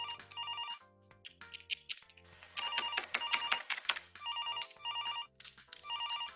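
A telephone rings repeatedly from an unknown number, bright electronic ring bursts in regular on-off patterns with short pauses, loud and close with no talking.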